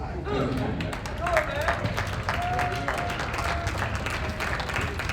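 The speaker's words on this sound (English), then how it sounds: "Let's give him a round of applause." An audience at a convention in a casino hotel claps in a continuous patter of applause, with people talking over it.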